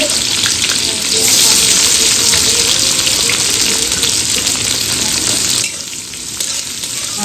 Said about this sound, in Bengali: ফোড়নে দিয়ে দিয়েছি তেজপাতা শুকনো লঙ্কা গোটা জিরে আর পেঁয়াজ দিয়ে দিলাম